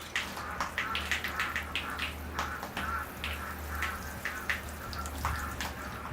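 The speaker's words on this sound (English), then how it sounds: "here I go with the watering" Water poured onto a bonsai ficus in its pot, a steady close splashing and trickling with soft pattering drops throughout.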